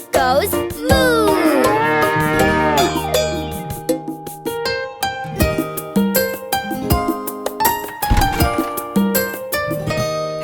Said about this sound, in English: And she goes moo.